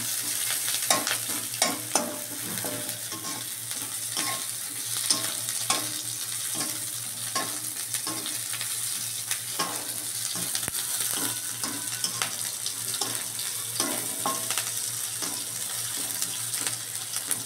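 Bele fish frying in oil for a fish curry: a steady, close, loud sizzle runs throughout, broken by repeated scraping and clicking of a spatula against the pan, with no voices.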